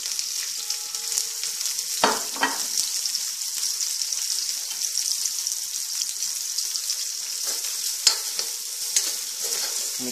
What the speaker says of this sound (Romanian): În continuare vom prăji o parte din legume.